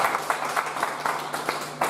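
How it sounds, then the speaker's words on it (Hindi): Brief applause from the audience for a poet at a Hindi poetry recital, scattered claps forming a short, moderately loud patter that comes in uneven bursts. "एक बार तालियां उनके लिए"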